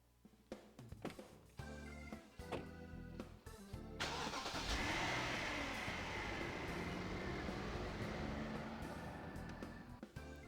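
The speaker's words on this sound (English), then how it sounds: "As the car takes off" In the Persona 4 Arena video game, a limo starts and drives off. Its engine rises into a steady, swelling rumble after a few seconds of music-like tones, and the whole passage is faint.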